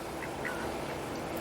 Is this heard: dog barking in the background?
no